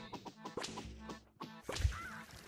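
Chicken zombies in the Plants vs Zombies 2 video game, a few short clucking and whip-like cartoon effects in quick succession, fairly quiet, with no speech.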